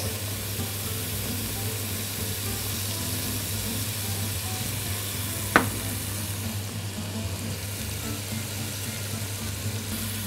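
Sausage sizzles in hot oil in a pan with a constant soft crackling hiss throughout, broken once by a sharp clink near the middle.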